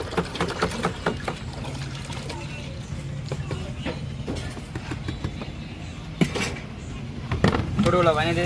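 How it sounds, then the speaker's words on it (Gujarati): Water poured to fill pani puri at a street stall in Rajkot, a close splashing, trickling pour running steadily under ongoing background voices and bustle. "અહીંયા હું પાણી ભર દઉં"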